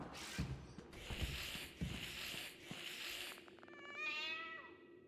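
Cat meowing inside the Five Nights at Freddy's: Into the Pit video game, several loud drawn-out meows in a row followed by a rising, wavering cry near the end, with no talk over it.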